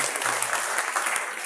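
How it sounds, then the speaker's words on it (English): A church congregation claps in a short, lively burst of applause, many hands at moderate loudness, lasting only a moment. "Let's give the Holy Spirit a big round of applause."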